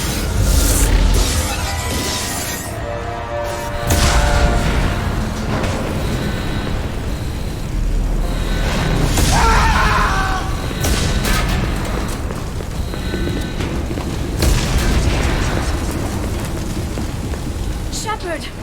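The Normandy starship explodes in Mass Effect 2, heavy booms and crashing, shattering debris rumbling over a continuous roar, with people talking amid the chaos.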